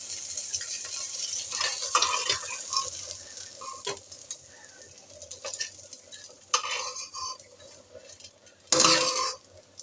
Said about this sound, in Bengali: এবার মাছটা আমার ভাজি হয়ে গেছে, যে আমি এভাবে ভেজে নিচ্ছি।